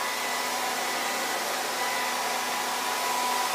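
A hair dryer blows steadily on hair during styling, a constant loud whooshing roar close by with no talking.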